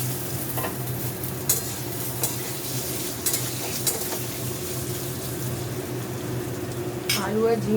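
Potato and ridge gourd frying together in a pan for a poppy-seed dish, a steady close sizzle with a few sharp spatula scrapes and clinks, ending in a brief louder stir.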